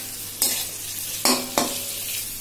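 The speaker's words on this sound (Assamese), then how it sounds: "এইখিনি মই ভালকে এবাৰ ভাজি লওঁ।" Potatoes and papad fry in a pan for a papad curry, a constant close sizzle broken by three sharp stirring scrapes.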